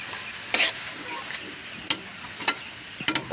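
A spoon scrapes and stirs sautéed bottle gourd (upo) in a pan, a few sharp scraping strokes spaced irregularly over a soft, steady sizzle, close and fairly quiet.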